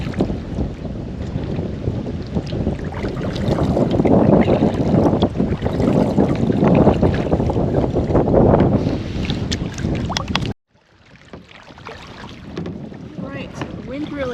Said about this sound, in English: the wind really picked up